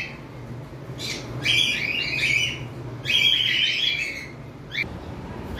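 Caged lovebirds give bursts of sharp, shrill chirps in three or four clusters, fairly close, over a low steady background hum.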